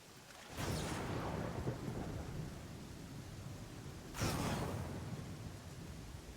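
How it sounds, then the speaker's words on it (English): Thunder and rain from a lightning storm in Pathfinder: Kingmaker: steady rainfall hisses throughout while two heavy thunder crashes roll in, one near the start and another later, each swelling loudly then fading into the downpour. "Getting regularly struck by lightning, but luckily our lightning resist is basically ignoring most of that."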